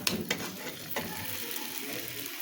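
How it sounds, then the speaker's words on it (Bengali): Pointed gourd and onion frying in oil in a pan, giving a steady close sizzle with a few sharp stirring scrapes near the start. "এইভাবে হালকা করে পেঁয়াজ পটলগুলো ভেজে নিতে হবে"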